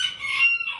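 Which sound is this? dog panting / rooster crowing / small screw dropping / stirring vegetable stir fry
rooster crowing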